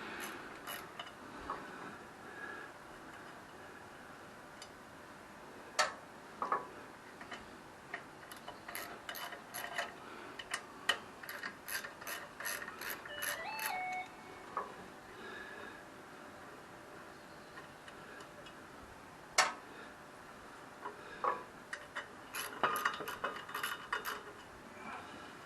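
Hex-head screws holding the air cleaner housing mount come off a Cushman golf cart engine. A small hand ratchet ticks in quiet bursts of rapid clicks, with scattered tool taps and light metal handling between them. The setting sounds close and fairly quiet.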